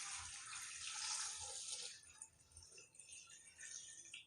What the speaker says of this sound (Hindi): अब हम इसमें दोबारा पानी डालेंगे।